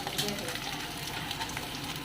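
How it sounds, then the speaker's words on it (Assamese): Fish frying in a pan at close range, with a steady, dense sizzle and crackle that holds without a break from start to finish. "ইয়াতে মাছ ভাজি আছে।"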